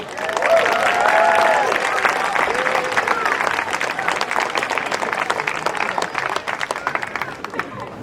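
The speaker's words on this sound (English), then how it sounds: "How about another round of applause?" Audience applause at an open mic night in an outdoor amphitheater: steady, dense clapping from a crowd, with some voices and faint cheering mixed in, holding loud before slowly thinning toward the end.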